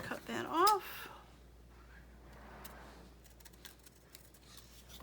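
Scissors cut paper card in one quick snip near the start, followed by quiet handling and faint rustling of the card.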